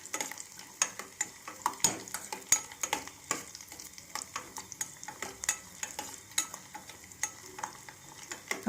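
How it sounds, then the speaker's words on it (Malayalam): Raisins frying in a pan for vermicelli payasam, heard as close, rhythmic stirring taps and scrapes repeating every half second or so over a light sizzle, with no voices. "ഇനി അത് നന്നായിട്ട് കളറൊക്കെ ഒന്ന് മാറി വരുന്നവരെ ഫ്രൈ ചെയ്തിട്ട്"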